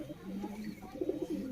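Soft, low cooing from pigeons at a keeper's loft runs steadily under background murmur, fairly faint and continuous.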